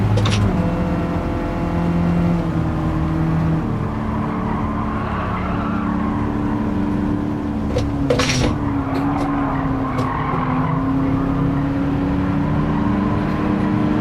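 A Volkswagen GTI engine drones steadily in the racing game Gran Turismo 7, its tone rising and falling with revs alongside brief tire squeal, continuous and fairly loud with no talk.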